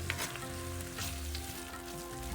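Chopped tomatoes sautéing in a pan for Kerala-style fish roast masala, a steady close sizzle and frying hiss running unbroken throughout, with no voices over it.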